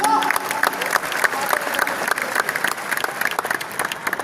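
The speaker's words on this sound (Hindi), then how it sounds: "सम्मान की तालियां अपने लिए" An audience at a Hindi kavi sammelan poetry gathering bursts into loud, sustained applause, crisp individual claps standing out within the dense crowd noise and faint voices mixed in.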